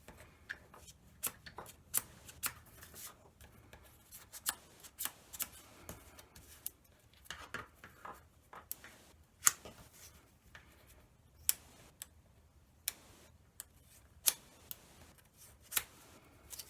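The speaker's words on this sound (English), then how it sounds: "Curling the wings up a little bit with the edges of my scissors." Scissor edges curl the wings of a paper butterfly cut from patterned card stock, making soft scraping and rustling strokes with sharp little clicks that keep recurring at irregular intervals, close and fairly quiet.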